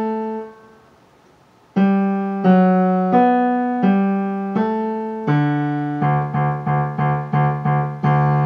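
A piano plays one line of Bach's Marche as a lesson demonstration. A single held low note rings first, then a run of clear, evenly spaced notes quickens into shorter repeated notes near the end. Close and distinct, with no talking.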